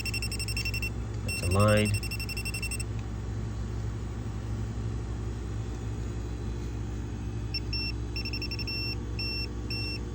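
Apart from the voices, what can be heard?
electrical tester audible beep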